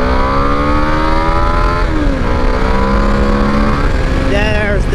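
Yamaha VMAX motorcycle engine pulling hard under acceleration with V-boost engaged, a loud continuous roar with rising and shifting pitch sweeps, steady and close throughout.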